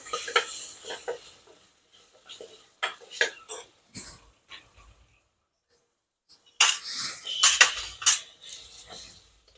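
Carrots, potatoes and peas stir-fried in a pan over a high flame, a spoon scraping and clinking against the metal in short bursts between quiet pauses, with a soft sizzle underneath.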